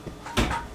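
A kitchen cupboard is opened to fetch a one-cup measure while baking gingernut biscuits, giving a single short, soft wooden knock and clatter close by.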